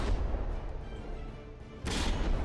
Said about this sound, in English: And that front turret takes a hit. Possibly several hits.